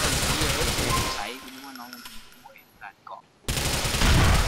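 Bursts of rapid gunfire from the video game GTA IV crackle loudly at the start and end, with a short quieter gap where a voice speaks.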